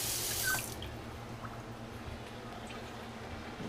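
Tap water runs briefly over a cutting board being washed, a short bright splash at the start that cuts off, then faint drips against a quiet low room hum.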